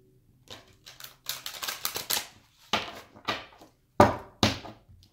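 Tarot cards riffle and slap together in several quick bursts, a close crisp rustling with brief pauses between shuffles.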